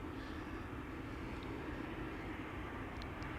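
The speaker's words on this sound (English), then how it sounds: "An airplane coming in the background" A fixed-wing airliner arriving at Amsterdam Schiphol Airport, a steady distant broadband roar of jet engines that holds evenly throughout with no talk.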